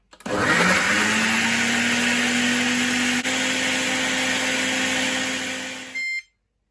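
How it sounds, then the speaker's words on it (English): A Ninja Foodi blender and soup maker blending onions on medium speed, its motor spinning up quickly to a steady high whine that holds for about six seconds before cutting off abruptly, close and loud. "blend the onions here first. Power on. I'm going to blend here, and I am going to select medium here."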